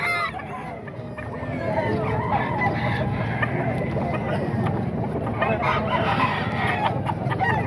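A bull stag rooster and other chickens at a backyard pen give off clucks and a crow, moderately close, mixed with a busy background hum; someone speaks faintly in places.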